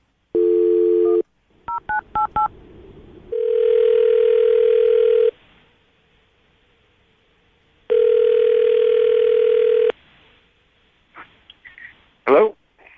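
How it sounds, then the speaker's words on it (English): A telephone gives a steady dial tone, then a quick run of dialing keypad tones, followed by long stretches of ringback tone with quiet gaps before the call connects. "I'm going to dial the phone number, let you make your Awkward Tuesday phone call"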